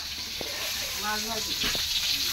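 Fish fries in a pan with a steady hiss of sizzling oil, while a voice talks briefly over it in the middle.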